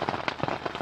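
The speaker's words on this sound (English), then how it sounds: "when it's raining, the tent's pretty noisy" Rain patters on a tent, a dense close drumming of drops with irregular louder hits, steady and fairly loud.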